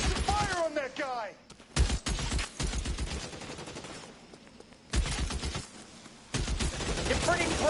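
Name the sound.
gunfire in L.A. Noire video game shootout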